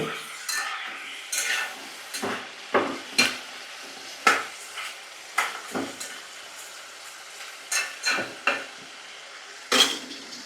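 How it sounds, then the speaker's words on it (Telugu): Oil sizzles in bursts as mutton bones are stirred in a pan, with repeated scraping and clinks of a utensil against metal. "ఆయిల్ కొంచెం వేసాం కదా బోన్స్ వేసుకుందాం మటన్ బోన్స్ అండి"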